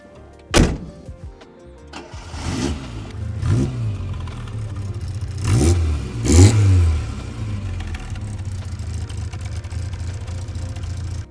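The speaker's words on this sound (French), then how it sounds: "le petit bruit du 4 cylindres." Four-cylinder engine of a 1981 Autobianchi A112 Abarth running and revving, several sharp blips rising over a buzzing idle, with a couple of brief clunks, close and alone without talk.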